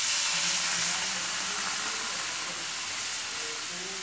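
Milk is poured into hot cooked flour, and a loud, even hiss of steam and sizzle carries steadily throughout, fading slightly toward the end.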